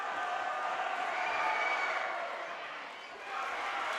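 A capacity crowd packs the stands at a high school basketball game, Crimson Cliffs at Pine View, keeping up a loud, continuous murmur of voices and cheering that dips briefly before swelling again.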